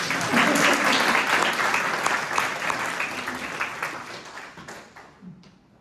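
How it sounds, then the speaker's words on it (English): An audience applauds at a STEM awards ceremony, a dense wash of many hands clapping that swells at the start and gradually fades over several seconds, with no talk over it. "could you clap for her anyway?"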